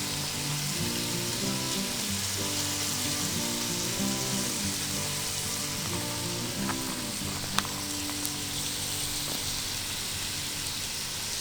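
Grease sizzles steadily in a Lodge Cook-It-All set over a campfire outdoors, a continuous close frying hiss with a low crackle and hum beneath, briefly punctuated by a sharp tick, with no talking.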